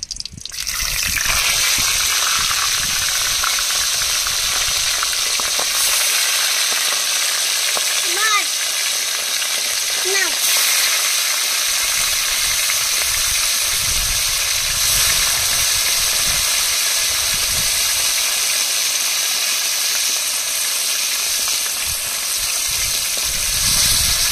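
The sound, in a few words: fish head frying in hot mustard oil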